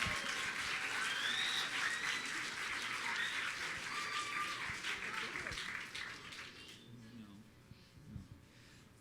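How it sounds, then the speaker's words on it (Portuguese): A church congregation applauding for a couple celebrating 29 years of marriage, dense clapping mixed with voices and cheering for about six seconds before fading into quieter room noise. "Vocês podem aplaudir ao Senhor?"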